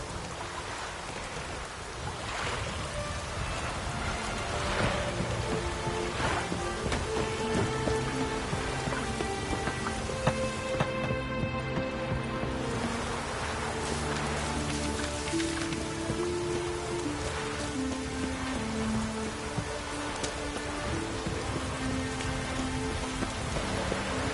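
Rain in The Witcher 3 falls steadily and evenly as a continuous hiss of drops on surfaces, with tonal music and game sounds layered throughout.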